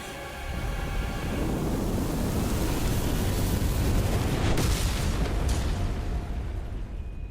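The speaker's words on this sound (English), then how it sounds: "But first, explosions in space." A sustained, roaring rumble of space explosions in the Stellar Blade demo fills the whole stretch, loud and dense, with a sharp burst crackling near the end.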